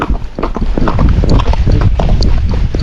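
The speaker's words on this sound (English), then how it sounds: "Some of the time he goes into a harder trot" A Rocky Mountain gaited horse moves in a broken, trotty gait, its hooves clip-clopping in a quick, uneven rhythm close by and loud, with faint voices in the background.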